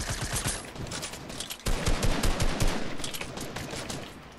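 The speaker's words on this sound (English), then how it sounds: "I'm shooting him down." Rapid bursts of gunfire from a Fortnite match crackle loudly and continuously throughout, with dense repeated shots and a sharper, heavier volley midway.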